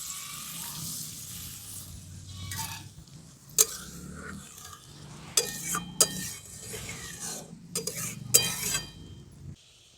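Water rinsed from a bowl poured into spice paste frying in a pan, with a soft hiss and splash, followed by several metallic clinks of a bowl and spoon against the pan.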